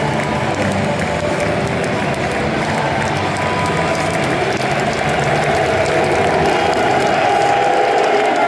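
Football fans in a Wembley stadium, Manchester City against Nottingham Forest, applauding their team after the final whistle: a continuous, dense roar of clapping and crowd noise, steady and loud throughout.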